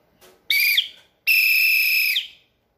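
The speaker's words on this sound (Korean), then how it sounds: "호루라기 불어볼게요." A handheld safety whistle blown in two sharp, shrill blasts, a short one followed by a longer sustained one, each ending with a quick pitch drop, loud and close with no talking.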